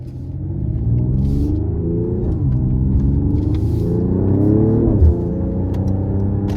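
A 2024 Mercedes-AMG GLE 53 Coupe pulls hard from inside the cabin, its loud engine note climbing in pitch, dropping briefly at two gear shifts and climbing again over a deep rumble.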